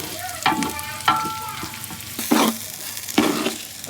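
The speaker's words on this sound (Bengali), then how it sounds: "পেঁয়াজ আর আদা ভাজা ভাজা করে আমি চালটা দিয়েছি, চালটা লাল লাল করবো আর কি ভেজে" Rice frying in ghee with browned onion and ginger for morog polao sizzles loudly and close, broken by several scraping stirs of a spoon against the pan.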